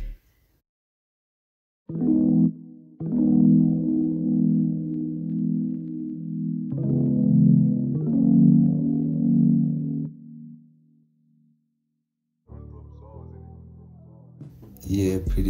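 Melody bus through a vintage Cymatics Origin plugin preset in a chilled, jazz-inspired Afrobeat, heard as warm, lo-fi chord stabs in phrases with short gaps, close and full.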